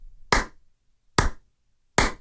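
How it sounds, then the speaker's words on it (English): Three slow, evenly spaced hand claps, sharp and close, with silence between each one, like a lone teen movie slow clap. "Give you a teen movie slow clap."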